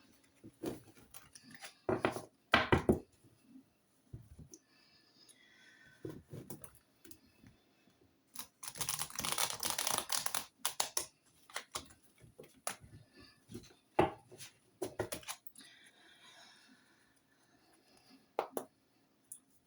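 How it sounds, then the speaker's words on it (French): Tarot cards handled and reshuffled: scattered soft taps and flicks, then a sustained riffling rush of cards in the middle, followed by more light card slaps, close and fairly quiet, without talking. "Je reprends les cartes, on remélange"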